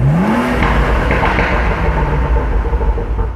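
A car engine revs up in sport mode to about 5,000 RPM, a rising whine that climbs and then settles into a steady loud drone close by, with no talking.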